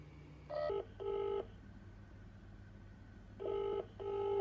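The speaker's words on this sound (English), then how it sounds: "let's ring the iPhone again" Two pairs of electronic ringback tones from calling an iPhone, each double burst separated by a pause, quiet and clear with no talking.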